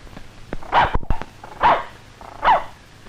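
A dog barks three times at a steady spaced rhythm, close and loud, with a few sharp knocks between the first and second bark, in an old black-and-white puppet show scene.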